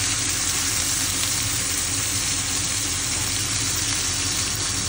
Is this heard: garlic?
yes